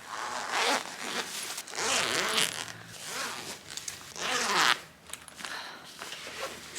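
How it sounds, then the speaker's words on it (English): A medium travel suitcase zipped open in several long ripping pulls, each zip clear and close with brief pauses between, and no talking. "Satisfying zips. Got this one that undoes it."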